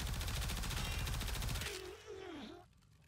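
Prisma Twin Gremlins pistols in the Warframe video game fire fully automatic, a rapid, dense stream of shots for over a second, then stop and leave a wavering electronic whine.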